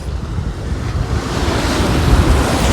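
Sea waves and surf roll in a continuous broadband wash, loud and close, with a gentle swell in volume and steady wind buffeting the microphone throughout, no voices present.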